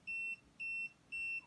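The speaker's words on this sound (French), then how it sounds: "S'il y a du courant, il va biper." A smart multimeter's non-contact voltage detector beeps near a live current: three evenly spaced, clean electronic tones, each about a quarter second long, steady in pitch and fairly faint.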